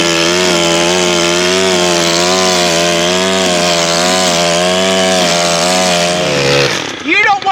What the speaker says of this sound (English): let's do a field test on the Stihl FS 131R and see what we can do.